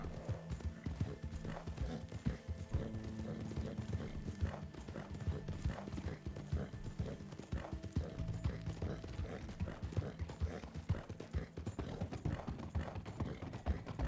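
Hooves clip-clop in a steady trotting rhythm as a horse moves along in Red Dead Redemption 2 story mode on PC, close and distinct, with a possible brief whinny.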